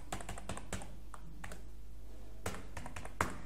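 Keys on a computer keyboard are tapped in short irregular bursts of crisp clicks, close and fairly quiet, with pauses between strokes while filling in an online application form.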